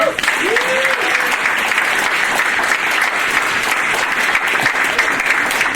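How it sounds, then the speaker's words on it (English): Sustained audience applause at an employer recognition event, a dense steady wash of clapping hands filling the room for several seconds at even loudness. "we'd like to give you a big round of applause"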